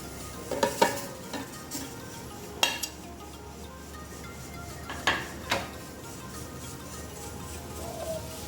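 Pieces of cooked hilsa fish placed on top of Dhakai ilish pulao in a pot, with a few light clinks and taps of a utensil over a faint steady background hiss.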